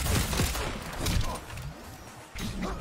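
Rapid bursts of gunfire crackle in quick succession, loud and dense, like a firefight in an action game.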